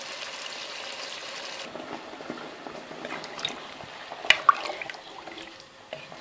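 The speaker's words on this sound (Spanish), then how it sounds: "Y ahora le vamos a cubrir de agua." Water poured over a Spanish meat and vegetable stew in a cooking pot, a steady splashing pour that shifts to softer trickling and a few close drips, with no one talking.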